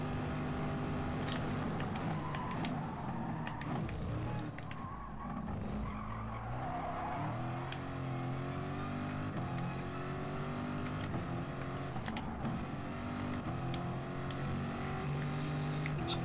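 Gr3 Corvette race car lapping the Austrian circuit in GT Sport, its engine droning close and loud with repeated gear shifts and revving, accompanied by frequent tire skids and squeals.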